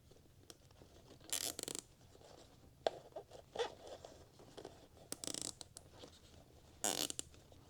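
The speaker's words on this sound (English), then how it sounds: "And zip tie it down." A zip tie is ratcheted tight around wiring on a Honda NX500 motorcycle during a USB power install, producing several short, sharp zipping bursts separated by quiet gaps and small clicks, close and fairly faint.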